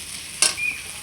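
A ground paste of mustard, green chilli, dried chilli and garlic goes into a pan of frying red amaranth stems, with a brief sharp sizzle burst and a softer hiss and stir after it.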